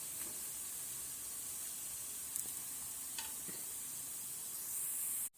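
Thalipeeth flatbread frying on a pan gives a steady, close sizzling hiss that runs unbroken, with a few faint clicks and a brief louder stretch near the end before it cuts off.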